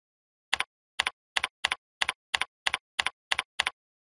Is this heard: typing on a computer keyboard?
yes